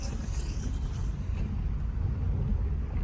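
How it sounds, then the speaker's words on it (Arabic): Steady low rumble of street traffic, cars passing nearby with a continuous droning wash and no clear individual vehicle standing out. "صوت السيارات"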